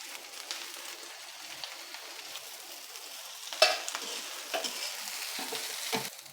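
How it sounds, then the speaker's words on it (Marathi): Hakka noodles with cabbage stir-fried in a pan, a soft continuous sizzle under scattered spatula scrapes and tosses, with one sharper clank midway. "सर्व व्यवस्थित मिक्स करून घेऊ"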